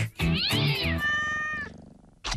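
A cat gives one drawn-out, rising and falling meow, loud and close, followed by a short quieter tail and a brief fresh sound at the end.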